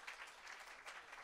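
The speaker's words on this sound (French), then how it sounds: "On vous applaudit." Children at an intergenerational church service are applauded with a short burst of steady crowd clapping, fairly faint and without talk.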